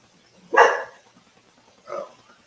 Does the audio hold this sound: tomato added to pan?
no